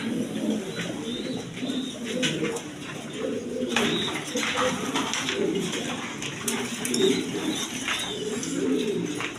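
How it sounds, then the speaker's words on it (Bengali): Pigeons at a farm packed with loft houses coo in overlapping low, throaty rolls, with faint chirps and soft background murmur around them. "কবুতর আরেক খামার, এই দেখেন বাচ্চা কাচ্চা সহ এখান থেকে মেলা কবুতর পাইবেন, হাই কোয়ালিটি কবুতর"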